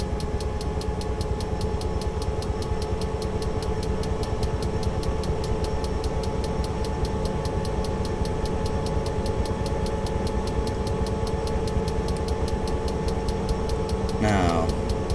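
A helicopter engine idles in the flight sim Take on Helicopters, a steady mechanical drone with a fast, even ticking pulse running unchanged throughout, with a voice heard briefly near the end.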